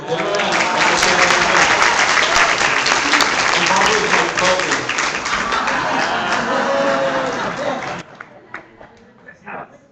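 Loud, dense audience applause at a candidate forum, sustained for about eight seconds before cutting off into a few scattered claps and quiet room noise.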